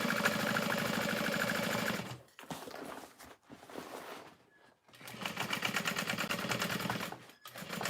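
A sewing machine topstitches a tote bag, its fast, even needle hum running in loud bursts with short pauses between runs, close up and with no talking.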